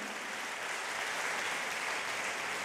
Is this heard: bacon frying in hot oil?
no